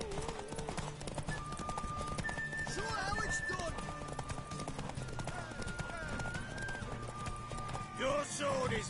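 Hooves clip-clop steadily as a horse runs in The Witcher 3, with a whinny and game voices talking over the rhythmic hoofbeats and background score.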